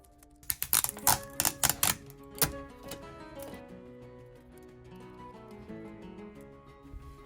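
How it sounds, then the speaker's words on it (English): Aluminum foil crinkles and rustles as it is wrapped around a wooden dowel, with a burst of sharp crackles near the start that soon settles into softer handling noise. "I don't want the wax to stick to the wood, so I'm going to surround it with aluminum foil"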